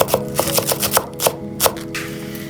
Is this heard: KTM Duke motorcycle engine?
no